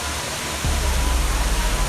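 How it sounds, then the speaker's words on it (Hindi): A tall waterfall on the trek to Kedarnath pours with a dense, steady roar. It starts after a brief quieter moment and then stays loud and close to the end. "कितने ऊंचे से पानी गिर रहा है वो"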